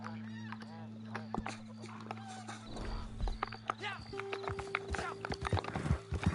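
Horse hooves clip-clop in Red Dead Online, a faint run of irregular hoof knocks that quickens toward the end, with a low steady hum and someone talking over them.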